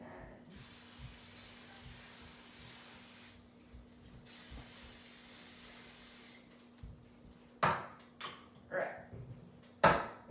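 A can of cooking spray hisses in two long, steady bursts onto a pan for French toast, fairly close, followed by a few knocks and clatters of the can and pan.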